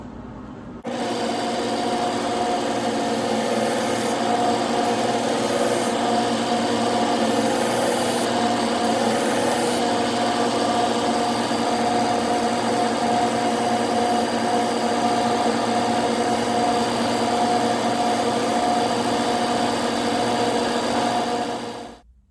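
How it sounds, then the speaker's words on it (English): A knife's bevels being finished with Scotch-Brite on a powered abrasive machine, a steady loud whirring hum with a constant tone, starting abruptly and running evenly before winding down at the end. "Now we're going to finish the bevels with Scotch-Brite as well"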